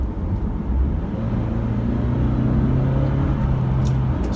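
A 2017 Toyota Camry with a four-cylinder engine accelerates hard from inside the cabin, giving a steady, loud engine drone with a rising tone and road rumble beneath it, and no talking.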